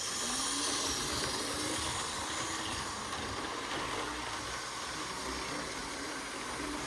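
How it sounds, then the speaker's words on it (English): A model train runs along its track with a steady, close mechanical whir and hiss that stays even and unbroken, quiet overall, with no voices over it. "Train's up here, Oren."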